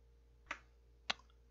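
Two crisp mouse clicks at a computer, close and faint, separated by roughly half a second in near silence.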